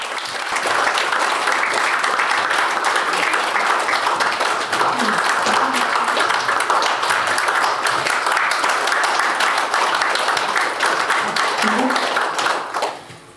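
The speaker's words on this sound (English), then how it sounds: "with a warm round of applause, let us warmly welcome our esteemed teacher" A large audience at a corporate social responsibility event claps in a warm, sustained round of applause for a speaker coming to the stage, loud and steady for about twelve seconds before fading out.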